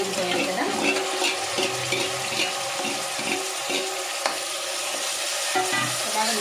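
Mutton being stirred into fried onions inside a pressure cooker for mutton pulao gives a steady sizzle with scraping stirs and a soft, wet squelch, alone and close by.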